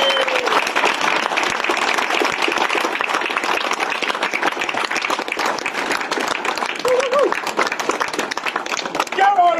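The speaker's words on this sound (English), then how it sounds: "Round of applause." Sustained, loud applause from an audience at a wargaming tournament awards ceremony, dense clapping filling the whole stretch, with some voices faintly under it.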